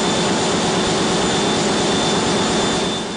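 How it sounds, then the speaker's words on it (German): Container ship engine room with a 7000 hp main engine, a loud, steady, roaring mechanical drone with a constant tonal whine, continuous throughout and very close. "Und hier im Maschinenraum wird es dann noch lauter."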